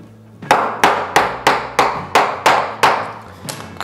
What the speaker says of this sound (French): je vais utiliser une petite cale avec un marteau.